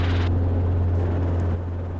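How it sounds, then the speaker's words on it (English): Helicopter in flight, a steady loud rotor and engine drone with a strong low hum, continuous throughout and close by, with no talking. "since I'm talking so much about helicopters, let's just go do something that only helicopters can do"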